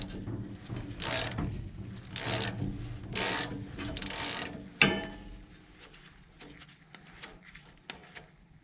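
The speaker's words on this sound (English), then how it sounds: "I'm going to go ahead and take the top plug out." Ratchet wrench taking the top plug out of a John Deere Model 47 snow blower, heard as several bursts of rasping clicks with a sharp knock partway through, then quieter scraping and faint mechanical rubbing.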